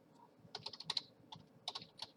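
Quick bursts of clicking keystrokes on a computer keyboard come in two short flurries with a pause between, close and fairly quiet in a still room.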